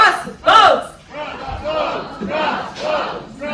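A cruise audience chants "Crossbones" as a team cheer, several loud shouted voices rising together in rhythmic bursts, the first burst strongest, then steadier repeated chanting from the crowd.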